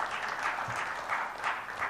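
A conference audience at a technology leadership summit gives a welcoming round of applause as a speaker comes up to the dais, heard as a soft, distant, even patter of many hands.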